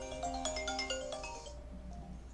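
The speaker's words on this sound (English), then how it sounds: "I got interrupted here by a phone call" Electronic phone ringtone from an incoming call, a bright repeating melodic chime that plays clearly for about a second and a half and then stops, leaving faint background noise.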